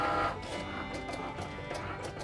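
Cricut Maker cutting machine working through a cut, a steady close mechanical whir with faint repeated ticks and shifting carriage movement, running alone without talk.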